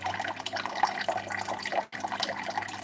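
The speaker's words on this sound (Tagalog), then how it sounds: "Mag-ipon ng tubig, sobrang hina ng tubig." A weak trickle of water from a tap, running low because of pipe repairs outside, makes a soft steady patter with small irregular drips, close and alone for a few seconds.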